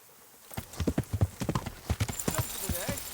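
Horse hooves clip-clop in a steady rhythm of close, distinct beats in the medieval video game Kingdom Come Deliverance, with voices talking over them.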